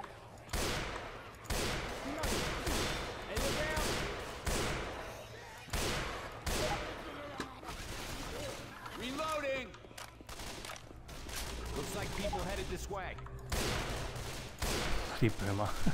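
Rifle gunfire from Left 4 Dead 2, with repeated loud sharp shots in irregular bursts across the whole stretch, while voices talk over the firing.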